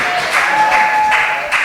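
A church congregation claps together during a French-language worship service, a dense, steady wash of applause with swelling pulses that carries on throughout, a faint sustained tone running beneath it.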